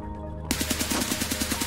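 Rapid automatic gunfire in the shooter game Escape From Tarkov starts abruptly after a short lull, a loud, fast, even burst of about a dozen close shots.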